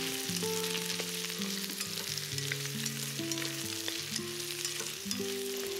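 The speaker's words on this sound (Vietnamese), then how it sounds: "Sau đó cho chuối đã chiên sơ vào xào." Steady sizzling and frying of banana stir-fried in a pot, with scraping stirs and clinks over a constant hiss, close by.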